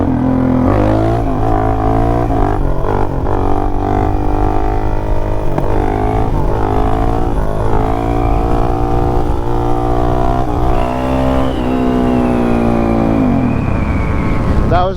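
A Suzuki DRZ400 dirt bike with a jet kit, 3x3 mod and aftermarket exhaust revs hard through a wheelie, engine pitch climbing then dropping at a shift from second to third gear, loud and close.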